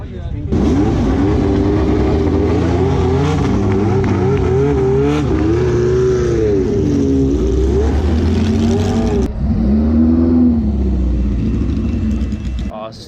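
A world championship race car engine revs hard while being driven, a loud, close, rising and falling drone with shifting pitch that cuts out sharply and restarts near the end.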